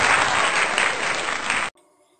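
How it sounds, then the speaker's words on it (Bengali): Students applauding at a Teachers' Day gathering, a dense burst of clapping from a group that runs for about a second and a half, then cuts off abruptly into quiet. "সবাই হাততালি দিয়ে আমাকে উৎসাহিত করবে তো নাকি?"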